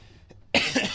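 A single short, loud cough close to the mic, preceded by a faint breath, in a quiet room.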